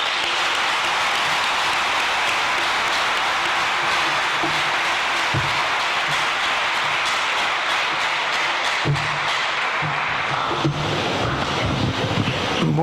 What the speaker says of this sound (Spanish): invitamos con un fuerte aplauso a iniciar con el señor José Manuel Corripio